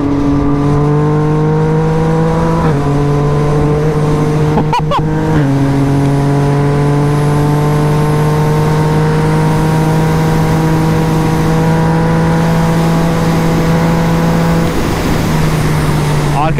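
Yamaha MT-09 three-cylinder motorcycle engine droning loudly at close range under the rider, with steady tones that step down briefly as gears change, wind noise over it.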